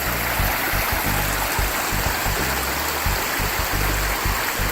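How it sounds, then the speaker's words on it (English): Water rushes and babbles steadily in a nearby creek along the Benton MacKaye Trail, a constant bright hiss with a low, uneven gurgling underneath. "Beautiful little creek."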